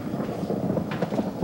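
Thunder rolls through a stormy night in a werewolf film, a low, continuous rumble with rain noise, moderately loud and steady for the whole stretch.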